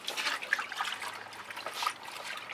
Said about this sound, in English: Alright, I gotta wash my hands off.